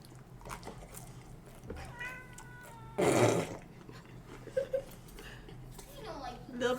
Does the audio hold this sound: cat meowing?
yes